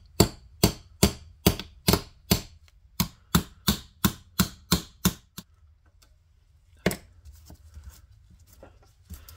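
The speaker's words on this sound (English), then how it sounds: "We use this brass hammer to tap those ends over." A brass hammer taps the ends over during the restoration of an old Philco radio, giving about a dozen sharp, evenly spaced close taps, then a pause and one more tap amid faint handling sounds.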